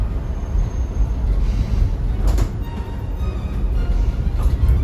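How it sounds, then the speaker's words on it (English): Rattling inside a 2021 Chevrolet cargo van on the move, steady loud road rumble with light intermittent clatter and rattle layered on top and no talking. "I have no clue what that rattling sound is."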